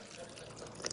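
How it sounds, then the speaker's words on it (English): Tap water from a kitchen faucet runs steadily over fruit and vegetables as they are rinsed, a close, continuous pouring and trickling wash that swells slightly toward the end. "You'll still rinse it underneath the tap water."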